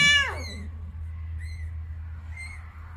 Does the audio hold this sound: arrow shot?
no